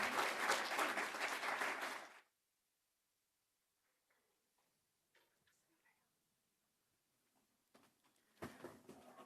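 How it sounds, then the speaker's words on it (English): Audience applause at a panel discussion event, a dense burst of clapping for about two seconds that cuts off into near silence, with faint clatter, then returns loudly near the end. "can you give them a huge round of applause and welcome their adoption of the Charter?"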